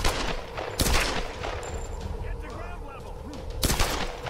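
Video game gunfire from enemies shooting in Tomb Raider, two loud sharp bursts near the start and end with scattered quieter shots and game ambience between, no voice over it.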